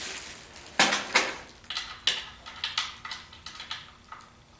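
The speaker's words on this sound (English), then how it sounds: "And then I'll torque them to spec." Torque wrench clicking as crankshaft bolts on a 1976 Corvette are tightened to spec, giving a series of sharp, close metallic clicks spaced irregularly, each followed by a short decay, with no talking.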